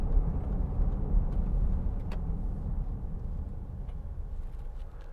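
Steady low road rumble from a 2016 Land Rover Discovery Sport 2.0 on the move, a constant engine and tyre drone inside the cabin with no voices over it.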